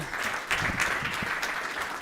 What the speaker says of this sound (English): Please put a round of applause together for her.